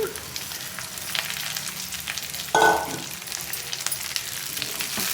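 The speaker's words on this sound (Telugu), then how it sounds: "ఉల్లిపాయ ఇలా ఫ్రై అయ్యాక దీనిలోకి బెండకాయ ముక్కలు వేసుకోవాలి." Okra pieces and onions frying in a pan, a steady close sizzle throughout with a brief louder burst midway as more pieces hit the hot oil.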